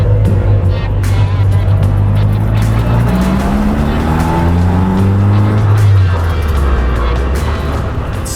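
A Caterham Roadsport is driven hard on track at Circuit Zandvoort, its loud engine droning near and steady through shifting revs, with the popping of the exhaust on lift-off mixed into the roar.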